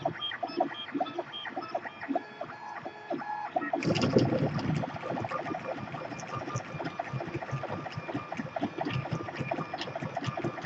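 A high-speed 3D printer runs a 40mm calibration cube, its motors whirring and buzzing with rapid stuttering steps that turn busier and denser a few seconds in, steady and close throughout.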